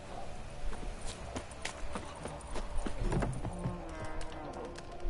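Roach, a horse in The Witcher 3, gallops with steady, quick hoofbeats at a moderate distance, the clip-clop running continuously over faint ambient game sound.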